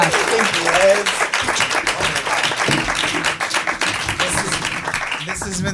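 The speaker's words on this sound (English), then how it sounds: "please give a huge round of applause for Josh Gondelman, everybody" Sustained studio-audience applause for comedian Josh Gondelman at a New York podcast taping, dense steady clapping filling the room with a few whoops, loud and continuous throughout.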